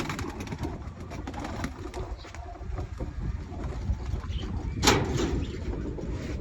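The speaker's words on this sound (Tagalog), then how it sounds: "Pakain tayo ng kalapati." Low, soft cooing of pigeons being fed close by on a rainy morning, repeating under a steady background hiss, with a brief sharp scrape near the end.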